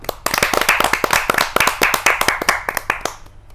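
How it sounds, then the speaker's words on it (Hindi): Crisp, separate hand claps from a modest audience at a Hindi kavi sammelan greet the poet Sushma Savera, an uneven patter of individual slaps close by that thins out toward the end. "तो आइए उनका स्वागत करते हैं जोरदार तालियों के साथ, सुषमा सवेरा जी"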